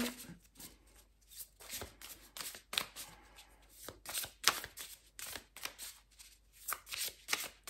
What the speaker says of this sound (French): Je vais vous tirer une dernière carte. L'oracle des prêtresses de lumière.